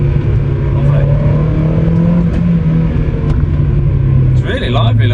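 A Mazda MX-5 NB (mk2) with the 1.8 engine runs loud and continuous at close range, holding a steady drone with slight swells, while a person talks over it.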